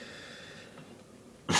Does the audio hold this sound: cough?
yes